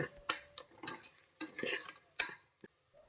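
Turmeric powder is stirred into a masala in a pan with a few quick metal scrapes and clinks over a faint sizzle, close and fairly quiet.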